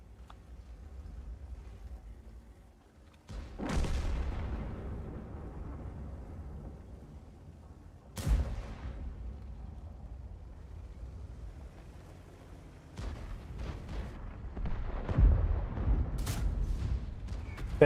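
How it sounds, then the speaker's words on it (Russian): Artillery shells land around a tank in World of Tanks, giving several heavy, booming impacts spaced a few seconds apart over a constant low rumble, the last ones coming closer together. "Да, арта по мне так стреляет."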